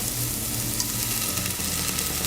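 Onions and vinegar sizzle and fry steadily in a pan, a dense crackling hiss that stays even and loud throughout with no talking.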